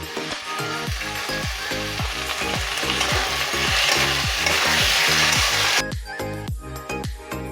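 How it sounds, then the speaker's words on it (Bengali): Sliced tomato frying in a pan with onion and capsicum, a loud continuous sizzle with repeated wooden spatula stirring strokes in a steady rhythm over background music. "টমেটোটা দিয়ে দেবো টমেটোটা লম্বা করে কেটে দিয়েছি"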